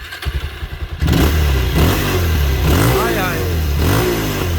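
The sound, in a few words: single-cylinder motorcycle engine revving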